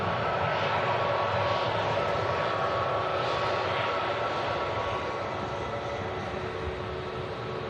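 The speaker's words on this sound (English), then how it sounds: "Got an Aegean A320 Neo on a taxi as well." An Aegean Airbus A320neo airliner taxis at Manchester Airport, its engines a steady, loud broadband roar with a constant whine, continuous throughout and easing slightly toward the end.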